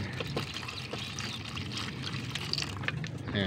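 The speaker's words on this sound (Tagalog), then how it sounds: "Ayan, lagdagan natin ng tubig." Water is poured into a stirred mixture in a container, a soft, close trickling and splashing that runs continuously at low level with faint background noise.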